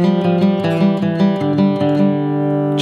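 Acoustic guitar strums chords on the transition into the chorus of a song, with quick rhythmic strokes and sustained ringing chord changes, loud and close, the final strum fading out.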